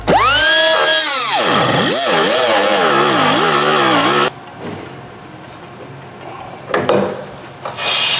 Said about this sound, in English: it's aluminum over high strength steel, so it gums your thing all up. And then you gotta try to cut through the steel.